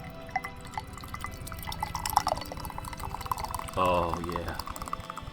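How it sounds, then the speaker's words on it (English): San Pellegrino sparkling water pours into a glass, a fizzy, liquid stream rising briefly near the end over steady background game music, with a person speaking a few words. "Oh, that's a good pour."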